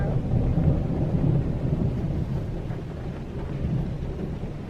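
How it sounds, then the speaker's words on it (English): Thunder rumbles low and heavy during a storm at a campsite, rolling on continuously with rain hissing and wind buffeting the microphone, and no voices present. "thundering and lightning and raining"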